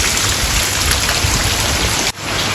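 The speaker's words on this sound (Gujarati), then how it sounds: "ખાલી પાણી પડે છે વરસાદનું" Rain falls heavily in a rural setting, a loud, dense, steady hiss close to the microphone that dips for a brief moment near the end, with no talking.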